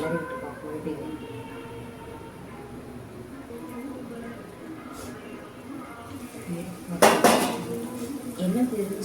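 Bitter gourd masala simmering on low heat in a pan is stirred, a utensil scraping and clinking against the metal in a brief loud flurry near the end over a steady background hum, with voices faintly present.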